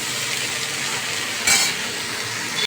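Vegetables fry and sizzle in a pan while being stirred for a paneer dish, a steady close hiss with scraping stir sounds and a brief louder burst of sizzle midway.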